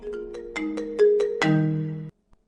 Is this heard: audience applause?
no